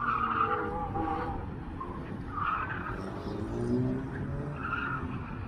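Tires skid and squeal as a Subaru WRX is driven hard around an autocross course. A steady car noise with rising and falling squeals is heard from a distance throughout.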